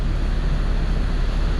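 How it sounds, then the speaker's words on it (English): Ocean surf washes onto a beach at dead low tide, a steady broadband roar with wind buffeting the microphone, continuous and fairly loud without any voices. "where those waves are crashing"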